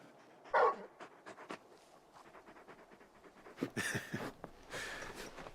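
A large dog in Final Fantasy XVI pants in quick, soft, rhythmic breaths, faint and close, with a couple of brief louder rustles and snuffles mixed in.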